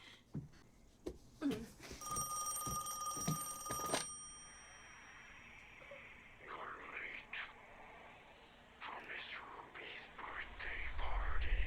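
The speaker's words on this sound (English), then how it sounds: "Why do you have to let the phone ring for so long?" A telephone rings in a scene from the 2024 horror film Longlegs, a series of short bright electronic rings in the first few seconds, followed by quiet murmuring voices and faint background sound.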